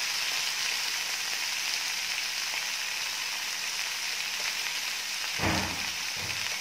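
Onion, garlic and tomato sauté in a hot pan with a steady, fairly quiet sizzle throughout, and a couple of soft knocks or stirs near the end.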